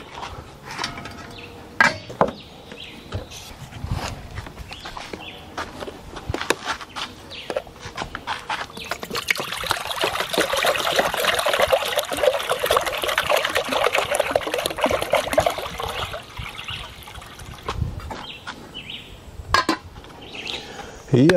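Water runs and trickles steadily while cooking food farm style outdoors, a continuous splashing pour building in the middle section with faint birdsong and scattered knocks around it.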